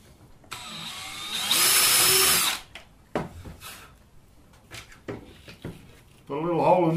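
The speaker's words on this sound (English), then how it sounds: "Put a little hole in there." A short, loud burst of a power drill whirring as a 5mm bit drills a small hole in a bee escape, followed by clicks and handling noises, with a voice speaking briefly near the end.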